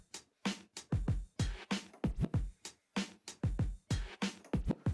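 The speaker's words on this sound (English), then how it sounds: "So we're going to do a 2-beat backspin," Turntables carry a two-beat backspin beat juggle, where quick swooping baby scratches alternate with punchy kick-and-snare hits in a tight repeating rhythm. The playback is fairly quiet and no one talks over it.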